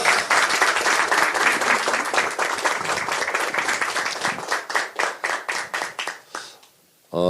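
Audience at a political party event applauding, a burst of loud clapping that thins into separate claps near the end before stopping abruptly.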